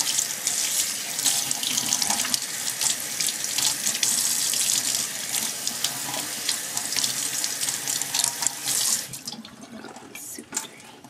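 Tap water running into a sink while a dirty makeup brush is rinsed, a steady close splashing hiss with slight changes as the brush moves through the stream, no talk.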